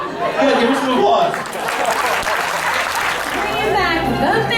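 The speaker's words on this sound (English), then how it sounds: "Give her some applause." An audience applauds with steady clapping mixed with chatter and light laughter, a room full of people responding close by for several seconds at a talk show taping.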